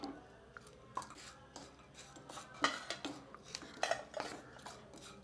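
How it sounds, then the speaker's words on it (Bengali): A wok of jaggery is set on a gas stove, giving a few sharp metallic clanks and scrapes spread over several seconds against quiet kitchen background. "গ্যাসের উপরে যে সেই গুড়ের কড়াইটা দিয়ে দিচ্ছি আবার দেবো এর ভিতরে একটু গুড়"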